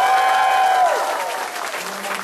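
Brief burst of audience clapping on cue at a presentation, loud and full at first, then thinning out over about two seconds, with a tonal sound fading underneath.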